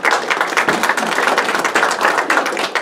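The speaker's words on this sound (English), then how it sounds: "give yourselves a round of applause for that." An audience at a museum anniversary event breaks into steady applause, a dense crowd of clapping hands heard up close for the whole stretch, with no talking.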